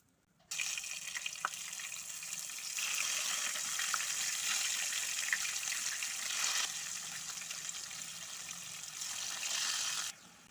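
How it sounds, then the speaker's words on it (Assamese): Eggplant pieces fry in hot oil left over from frying potatoes, a steady, close hiss of sizzling that starts abruptly and holds for about ten seconds with no voices. "এতিয়া এই তেলখিনিতে বেঙেনাখিনি ফ্ৰাই কৰি ল'ম।"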